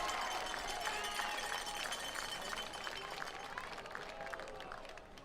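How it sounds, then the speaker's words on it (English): Football crowd at a college game in Troy between RPI and Carnegie Mellon, cheering and clapping in the stands. The roar holds steady and fairly distant for the whole stretch, with scattered voices and whistles mixed in and no clear speech. "Fans are cheering, so."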